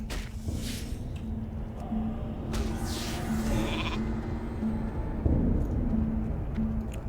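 Sheep bleat repeatedly in World of Warcraft, a few drawn-out cries rising over a steady low game hum and ambient background, fairly close and moderately loud.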